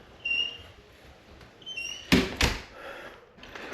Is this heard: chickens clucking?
no